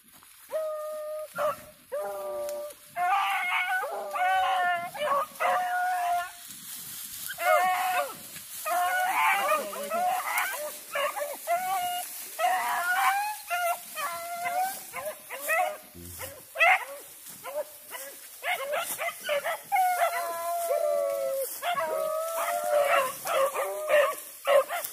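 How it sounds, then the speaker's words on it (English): Several dogs, a mix of Finnish dogs and puppies, barking and yipping at a kennel in a noisy, overlapping chorus with howl-like drawn-out cries, continuous and fairly close throughout. "All the damn puppies in this house"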